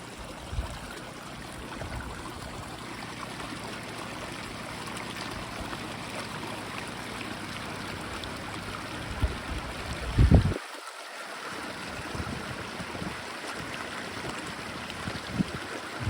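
Running water at an outdoor gold-mining site where rocks are broken and washed, a steady stream-like rush throughout with a brief louder splash or knock near the middle.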